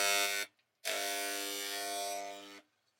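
An enamel spray gun runs with a loud, harsh, buzzing drone, first in a short burst, then in a longer one of almost two seconds, and starts again at the end. No talking is heard.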